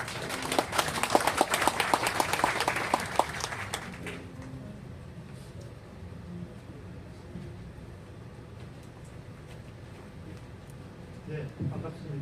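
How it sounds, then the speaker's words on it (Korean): Audience applause welcoming the council chairman on stage at a church memorial hall opening ceremony in Uiseong, Korea: dense clapping for about four seconds, then fading into room murmur and faint voices. "자, 박수로 맞아주세요."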